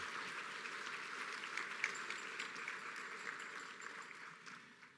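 An audience applauds the Jewish War Veterans at a community event honoring veterans, a faint, distant, even wash of clapping that slowly fades out.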